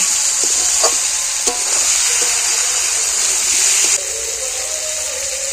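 Curry of pond-caught shol fish and ol yam, sweetened with a little sugar, is stirred in a frying pan: a steady, bright sizzle and hiss with a few soft scraping clicks, close and continuous, easing slightly near the end.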